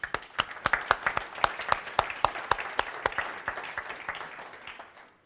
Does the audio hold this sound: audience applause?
yes